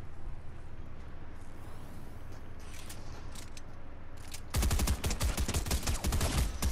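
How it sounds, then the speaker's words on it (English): Combat SMG fire in Fortnite, a fast rattling burst that starts abruptly partway through and stays loud to the end, with faint scattered shots and noise before it. "You have the combat SMG and you use that against me"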